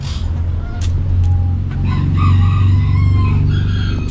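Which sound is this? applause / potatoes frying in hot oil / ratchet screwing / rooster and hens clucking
rooster and hens clucking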